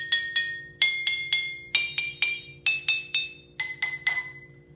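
Water-filled drinking glasses at different fill levels, from nearly full to nearly empty, struck in quick groups of two to four, giving bright ringing clinks of varying pitch with short decays, close and clear over a faint low hum.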